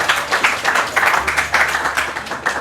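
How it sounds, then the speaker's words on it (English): An audience gives itself a round of applause, and the crowd's clapping comes in rhythmic, loud, fairly close bursts that continue steadily without pause. "So give yourselves a good round of applause."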